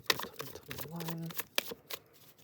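Tarot cards are shuffled by hand in short riffling bursts and crisp taps, close and fairly quiet, with a brief tonal hum in the middle and a little speech mixed in.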